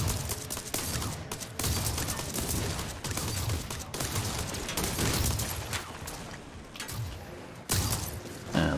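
Rapid bursts of friendly-fire gunfire from a teammate's vehicle in the TerraTech multiplayer game, crackling volleys that stutter and pause, loud and close, with sharp heavier hits near the end.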